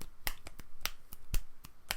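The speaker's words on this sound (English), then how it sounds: "That's a good reverse snap." Reverse finger snaps ring out as sharp, close, dry clicks, roughly ten in an irregular rhythm over two seconds, alone without talk.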